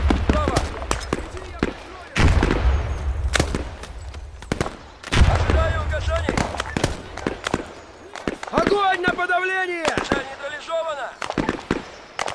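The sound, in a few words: hand grenade explosions in a video game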